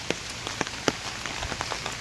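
Rain falls steadily on a flooded forest road, with a dense patter of drops punctuated by sharper individual splashes and taps, close and moderately loud.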